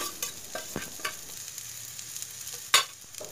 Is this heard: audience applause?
no